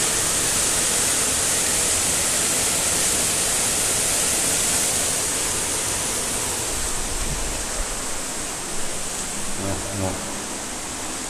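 A small waterfall near an abandoned guesthouse, heard as a loud, constant hiss of falling water close by, steady throughout with faint sounds of movement near the end.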